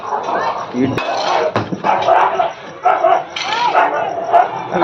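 Dogs bark and yip in quick bursts close by, with a person talking over them at points.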